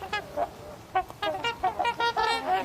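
A flock of trumpeter swans trumpeting in Skagit Valley, Washington, repeated honking calls overlapping in irregular bursts, fairly close and loud with no talking.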